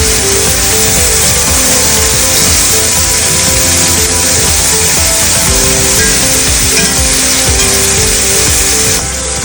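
A T-bone steak fries in butter in a pan, a loud, steady, close sizzle with constant crackling and spitting that carries on throughout without talk.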